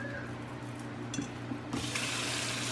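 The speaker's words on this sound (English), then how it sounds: "And let the water run." Tap water runs steadily into a kitchen sink, a continuous hiss and splash that grows a little louder and brighter partway through, with faint clinks and a low household hum underneath.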